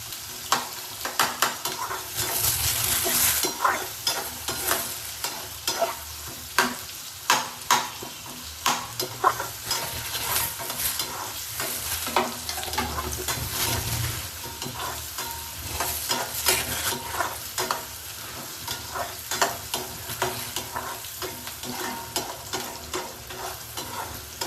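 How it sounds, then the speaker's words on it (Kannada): Onions frying in a pan for mushroom sukka, a steady close sizzle broken by frequent rhythmic spatula scrapes and clacks as they are stirred toward golden brown; no voices. "ಈ ಆನಿಯನ್ ಗೋಲ್ಡನ್ ಬ್ರೌನ್ ಕಲರ್ಗೆ ಟರ್ನ್ ಆಗಬೇಕು, ಅಲ್ಲಿವರೆಗೂ ಇದನ್ನ ಚೆನ್ನಾಗಿ ಫ್ರೈ ಮಾಡ್ಕೊಳ್ಳೋಣ."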